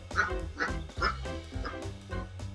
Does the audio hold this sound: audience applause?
no